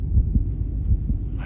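A heartbeat sound effect as heard by Daredevil in She-Hulk, deep muffled thumps pulsing steadily and close, with a low rumbling hum beneath and no voices.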